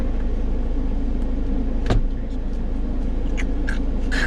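Steady low engine and road rumble from a Daihatsu Copen roadster driving, continuous and fairly loud from inside the cabin, with a brief sharp click near the middle and a few faint higher ticks afterward.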